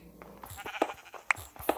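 Sheep in a video game let out a few short, quiet bleats close together within a couple of seconds, with no talking.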